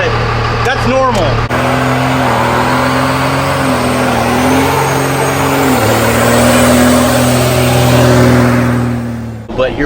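An LBZ Duramax dually pickup engine revs up and holds a loud, steady diesel drone close by, the pitch dipping and climbing with throttle changes, with voices talking over it at the start.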